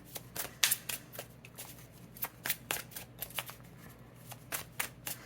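Tarot cards being shuffled by hand during a card reading, a run of crisp papery riffles and flicks in uneven bursts, close and fairly quiet with no talking.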